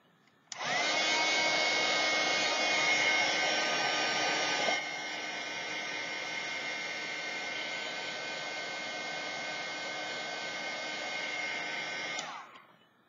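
A heat gun blasts hot air onto a painted tin can: a steady, loud whooshing roar that starts abruptly, eases slightly in strength partway through, then cuts off after about twelve seconds.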